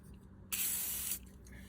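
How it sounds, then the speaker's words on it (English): WD-40 sprays from an aerosol can onto the parts of a Johnson Force 315 fishing reel, one short steady hiss of about half a second, close and clear. "I will spray the WD-40 on the parts"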